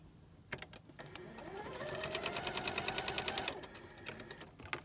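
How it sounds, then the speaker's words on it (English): A sewing machine stitches small crumb fabric scraps together for a charity quilt, its rapid, steady needle chatter running loud and close for about two seconds between softer starts and stops. "I'm going to sew these together."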